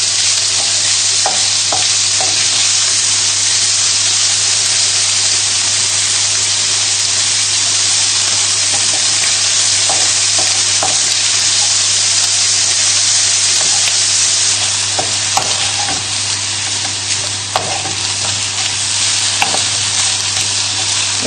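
Mushrooms frying in oil in a pan while being stirred, a loud, steady sizzle with soft scraping stirs throughout and no talking.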